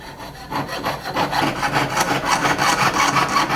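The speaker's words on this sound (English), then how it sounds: "I'm going to start sawing quicker in that corner and make my turn" Rapid back-and-forth rasping strokes of a fine saw blade cutting metal for a concho, close and steady, speeding up slightly.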